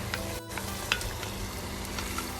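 Red wine sizzles steadily as it cooks down in a soup pot, a continuous close frying hiss with a brief soft stir and clink partway through.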